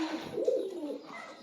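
A rare Sialkoti Chooha pigeon gives one soft, close coo, a low throaty rolling note that swells and fades within about a second.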